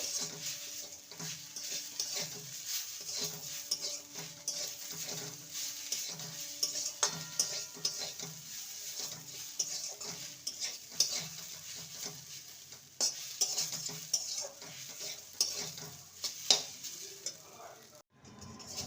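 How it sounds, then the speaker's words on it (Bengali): A spiced mixture for a vegetarian kakrol dish stirred in a hot pan, with a continuous soft sizzle and repeated rhythmic scraping of the spoon close by. "ভালো করে সমস্ত কিছু নেড়ে নেব আবারও"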